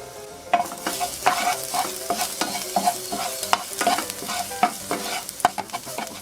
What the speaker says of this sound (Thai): เราจะไปเริ่มผัดกันนะคะ โดยที่เราจะใช้กระทะเทฟลอนนะคะในการผัด